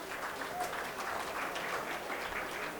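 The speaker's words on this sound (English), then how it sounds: "So a round of applause for Vivotex." Audience applause at a 2011 Israel conference, steady clapping from a crowd filling the room for the whole stretch, fairly soft and even, with a faint voice tone briefly showing underneath.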